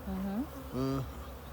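Honey bees buzz close up at an open hive, two short droning bursts rising and falling over a quiet background.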